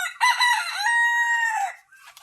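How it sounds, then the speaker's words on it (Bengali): A rooster crows once, close and loud, a single drawn-out cock-a-doodle-doo lasting about a second and a half before trailing off into quiet. "বেশি মোরগ।"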